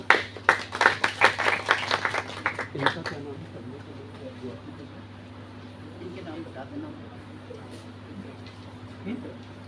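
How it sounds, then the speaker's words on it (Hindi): An audience claps to welcome a musician at a devotional music gathering: a brisk burst of applause for about three seconds that quickly dies away, leaving a steady electrical hum and quiet room noise. "तालियों से स्वागत करते हैं"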